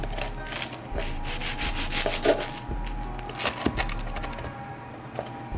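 A crispy crust on a homemade deli bread loaf crackles and scrapes as a knife saws through it, with loud, close, uneven crunching bursts and no voices.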